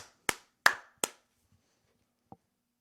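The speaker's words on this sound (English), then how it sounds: "then it's a round of applause" Three sharp, sparse hand claps ring out in quick succession in a quiet room, followed after a pause by one fainter tap, close and alone.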